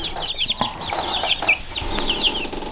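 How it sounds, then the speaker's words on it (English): Healthy baby chicks chirp and peep in a box, a continuous busy chorus of small high calls close by, with occasional faint clucking mixed in and no talk. "all the baby chicks are healthy"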